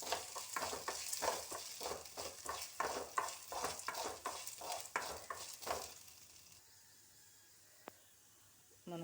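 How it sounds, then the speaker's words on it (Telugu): Lentils frying and being stirred in a pan until golden: a steady sizzle with rhythmic scraping stirs for several seconds, then a quieter simmering hiss with a single small clink. "ఇలా కాసేపు వేయించుకోవాలి, గోల్డెన్ కలర్ వచ్చేంత వరకు వేయించుకోవాలి."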